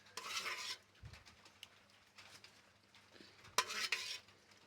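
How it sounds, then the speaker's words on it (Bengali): Khichuri made with parboiled rice being spooned onto plates, giving a few scraping, clinking bursts of spoon against plate and pot separated by quiet pauses, close by, with no one talking. "এই যে এখন বাড়ছি সবার খাবার।"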